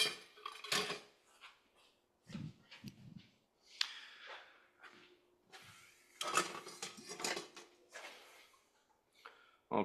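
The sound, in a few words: mixing a snack in a bowl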